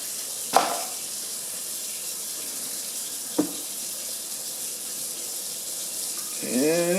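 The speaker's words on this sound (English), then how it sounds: "Turn the water on." Water runs steadily from a faucet into a sink just repaired for a leak underneath, with a couple of sharp clinks, ending with a gurgling swirl.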